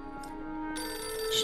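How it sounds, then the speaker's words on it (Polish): An in-game telephone rings steadily in the video game Beholder 2, a continuous electronic ringing tone that fills the whole moment at moderate loudness. "Zanim otworzymy, to odwieszę telefon, bo zaraz mnie będzie po prostu irytował w trakcie tej rozmowy."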